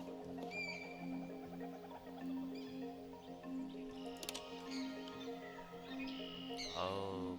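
Silly birds chirp and tweet in a loop on a big screen in The Stanley Parable game, sharp calls over a steady droning tonal hum with a rising whoop near the end.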